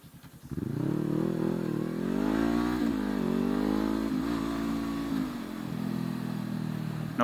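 Honda CB500F motorcycle engine riding through city surface streets, revving up after a brief idle and then holding a loud, rising and falling drone with a gear change midway.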